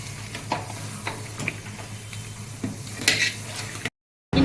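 Tempering for mango pickle sizzles softly in a pan, with the scrape and clink of stirring tapping at irregular intervals.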